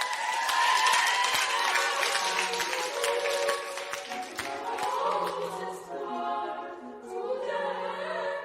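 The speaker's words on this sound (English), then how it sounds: "Give yourselves a round of applause." Audience applause after a choir performance, a dense patter of clapping from a crowd that thins and tails off over several seconds, with faint voices emerging toward the end.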